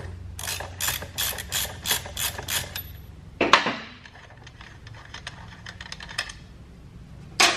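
A ratchet wrench loosening bolts on a Honda Monkey 125 swingarm: rapid close clicking bursts of the pawl, a brief metallic clunk, then more lighter ratchet clicks.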